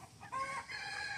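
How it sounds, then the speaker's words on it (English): Chickens moved to higher ground in flooded woods give a short, faint burst of clucking and calling, a quick drawn-out cry rising briefly before settling. "So we ended up moving the chickens to some higher ground."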